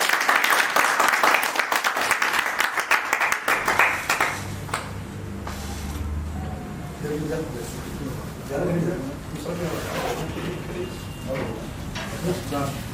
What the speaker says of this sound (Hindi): जोरदार तालियां चंदर जी के लिए।